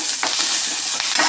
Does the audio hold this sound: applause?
no